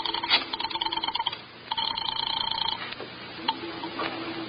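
An old-fashioned telephone rings in repeated bursts, a bright electric bell trilling twice with a pause between, followed by clicks and a faint dial or line tone at moderate volume, no voices.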